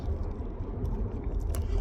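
A car rolling slowly along a quiet residential road, a steady low interior rumble with faint clicks and rattles.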